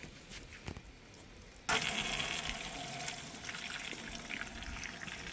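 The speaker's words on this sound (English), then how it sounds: "We're gonna turn the water on." Water from a tap on a backyard chicken plucker, used for processing meat birds at home. It switches on abruptly and then rushes steadily and loudly up close after a quiet start.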